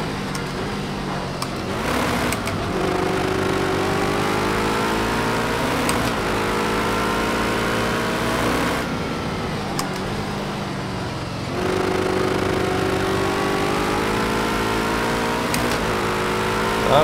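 A GT3 racing car engine in Project CARS 2, loud and revving high, climbing through the gears with brief dips at each shift and long sustained pulls, close and continuous.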